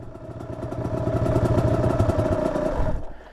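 A pit bike engine idles loudly close by with a rough, pulsing chug and rattling clatter, then cuts off abruptly near the end, leaving near silence.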